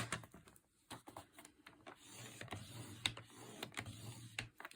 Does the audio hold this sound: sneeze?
no